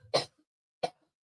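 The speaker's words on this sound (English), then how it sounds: "I'm going to cough real quick." A person coughs twice, two short sharp bursts about half a second apart, close and fairly quiet, with a throaty clearing quality and silence in between.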